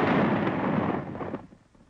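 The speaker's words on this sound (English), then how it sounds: "A 250 kilogram bomb of nearly the same type is also prepared for detonation." Detonation of a Japanese Navy 250 kilogram air-to-air bomb charged with 750 pellets: a single loud, broad blast that rumbles and decays over about a second and a half into quiet, with no talk.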